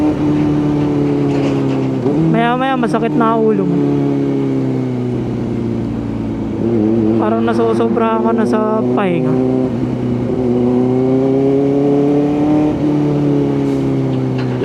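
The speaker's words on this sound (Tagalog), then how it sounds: "Dami dito mga sasakyan eh. Ay mga truck eh." Passing vehicles and trucks roar by close on a road, their engine tones rising and falling in repeated waves, while a person talks over the traffic noise throughout.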